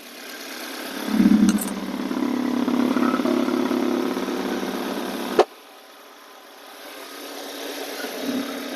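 A Changan car engine with a rattling noise in the engine bay, heard up close as a steady running drone with a rattly edge, then an abrupt thump and a quieter, lower idle afterward.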